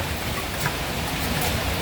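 Rain falls in a steady, fairly loud broadband wash with no distinct drops or pauses.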